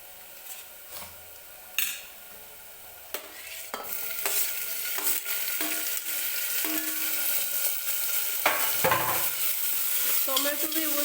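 Tomatoes sautéed in a pan with onions while a spoon scrapes and clacks against the metal, a low sizzle building underneath and growing steadier, nearby and without talk.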